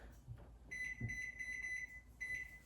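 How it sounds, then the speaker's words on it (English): A kitchen timer set while applesauce simmers beeps in a quick, faint electronic run, two bursts of steady high tone separated by a brief pause, over low room noise. "kitchen timer"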